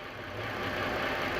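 A Chrysler 2.7 liter engine runs steadily with a close, continuous mechanical rumble and a faint knocking texture, rising slightly in level after the start, with no talking.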